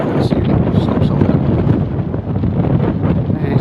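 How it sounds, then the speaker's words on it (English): Strong wind blows steadily across an open hilltop farm, a constant loud rushing buffet against the microphone with no let-up throughout. "wild days in the wind"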